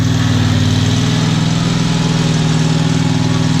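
A weed eater runs flat out in a backyard, its small engine holding a loud, steady, buzzing drone close by for the whole stretch, with no voices over it.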